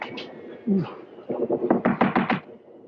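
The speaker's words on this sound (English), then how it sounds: "Better try knocking this time, Watson." A door is knocked on with a quick series of firm, close raps in a 1945 crime mystery film scene. A muffled voice is heard just before the knocks.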